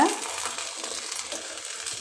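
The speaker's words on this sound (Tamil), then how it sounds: "பொறுமையாக அதே போல் கிளறி விடுங்க" Continuous close-up scraping and soft hissing as a spoon stirs thick parboiled-rice upma in a heavy-bottomed pot.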